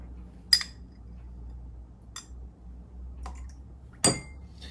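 A metal 5 ml measuring spoon clinks against a glass while black olive brine from a can is spooned in: four sparse, light taps over a faint low background hum.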